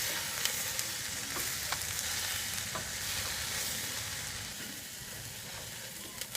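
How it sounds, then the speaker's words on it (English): Diced carrot, zucchini, herbs and green peas stirred in a pan for Mexican rice, a continuous close sizzle and hiss with occasional light spoon taps and scrapes, no speech. "I'm going to add in my herbs, green peas, and give this a stir for just a minute or two"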